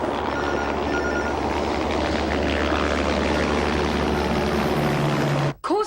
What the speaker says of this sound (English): What's that noise? Helicopter?